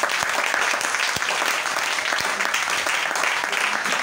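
Church congregation applauding and acclaiming the Lord: dense, steady clapping from a whole crowd for about four seconds at even loudness, with a few sharper claps standing out and faint voices mixed in underneath.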